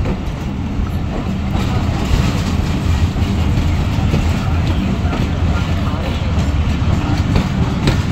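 Passenger train in Pakistan running after leaving Pattoki station toward Okara, a loud, continuous rumble of wheels and carriages with faint clickety-clack, close and steady throughout.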